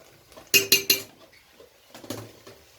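Spoon knocking and scraping in a pot of mukimo, the Kenyan mash, with a little Blue Band margarine added: three sharp close clanks in quick succession, a pause, then a softer burst of stirring clatter.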